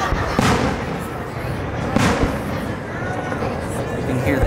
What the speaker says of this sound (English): You can hear the echoes off the canyon.